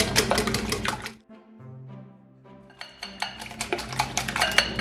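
Eggs with fried onion and green chilli are beaten in a bowl, giving quick rhythmic clinking and tapping strokes that pause briefly in the middle before resuming, close and moderately loud.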